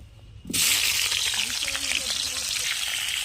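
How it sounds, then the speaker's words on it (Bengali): Unripe jackfruit pieces hit hot oil in a pan with a sudden loud burst of sizzling, then keep frying with a strong crackle while being stirred, with some scraping from the stirring. "তো আমি এঁচোড়গুলো সব দিয়ে নাড়াচাড়া করছি।"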